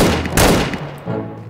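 M1 Garand rifle gunshots in a World War-era shooter game, a burst of loud sharp reports with ringing decay, followed by a quieter lingering tail.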